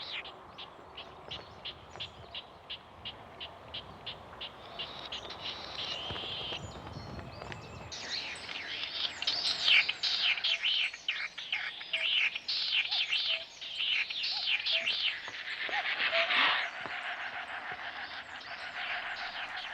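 A snipe trills from the ground in a Hokkaido marsh in Japan, a rapid series of rhythmic pulses, followed by other bird calls and chirps, all fairly faint and outdoors.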